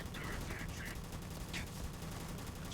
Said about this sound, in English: Alright, let's try the assault rifle.